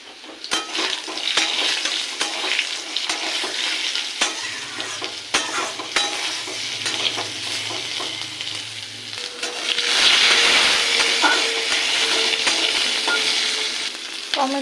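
Drumstick stalks and potatoes fry in oil with cumin in a pan, giving a steady close sizzle with stirring scrapes, the sizzle swelling louder partway through as fresh stalks hit the hot oil.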